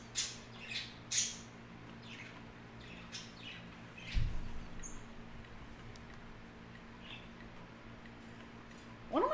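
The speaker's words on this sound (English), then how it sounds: "One of my animals is doing a weird whistle, and I don't know which one." An animal in the Zoo Tycoon video game lets out sharp, high squawking whistles, a cluster of chirps at the start and more scattered calls later, over a low steady ambient hum with no speech.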